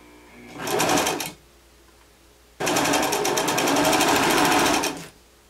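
Close sewing machine stitching around a blouse neckline: a short burst of rapid needle chatter, a pause, then a longer steady run of about two and a half seconds before it stops.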